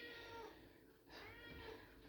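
A cat meows for food in a home kitchen, a couple of drawn-out calls close by with a brief pause between them and no talking.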